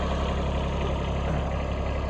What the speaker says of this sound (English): The tractor's running good.